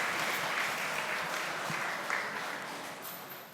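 A church congregation applauds to welcome children and their parents, a full, steady wash of clapping from many hands that gradually thins and fades out.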